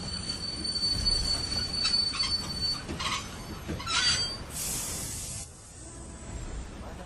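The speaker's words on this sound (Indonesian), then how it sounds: "naik kereta ekspres Jakarta-Jogja saat kereta tiba-tiba berhenti." An express train's wheels squeal loudly as it suddenly brakes, a high metallic screech over rumbling, then a hiss as it slows to a stop.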